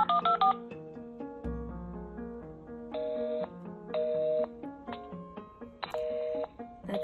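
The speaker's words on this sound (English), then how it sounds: "So I am calling Texas Workforce Commission just to see if we can get through." Telephone dialing tones sound while placing a call to a state workforce commission office, a run of clear beeping keypad tones of varied pitch in irregular bursts, fairly quiet with no talking.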